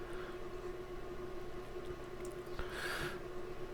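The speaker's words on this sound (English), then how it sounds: "The noise you can hear is the fan from the power supply." An amateur radio power supply's cooling fan drones with a steady, low electrical hum throughout, with a faint constant whine and a brief soft hiss near the end.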